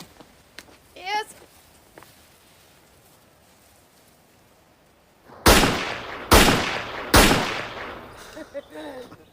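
Three loud, sharp gunshots fired in succession outdoors, each with a ringing tail, preceded by quiet background and faint voices, with speech following after.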